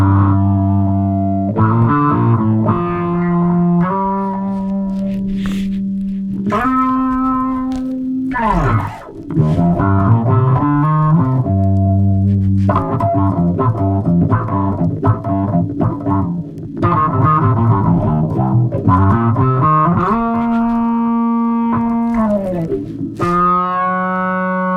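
Bass guitar through a Donner Morpher distortion pedal plays a riff of sustained, gritty low notes with slides and brief pauses, loud and continuous throughout.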